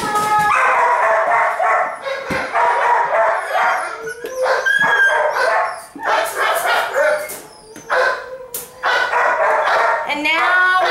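Small dogs let out to play bark and yelp loudly and almost nonstop, several high-pitched voices overlapping close by with occasional howling whines.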